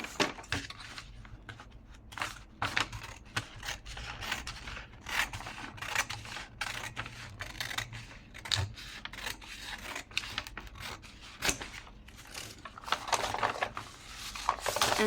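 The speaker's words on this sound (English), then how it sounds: "then I'm going to cut along this line" Scissors cutting through a folded, creased paper bag along a line, producing a series of crisp snips and crunchy paper rustles at an uneven pace, close by and without speech.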